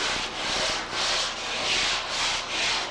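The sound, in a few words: sanding board sanding a surface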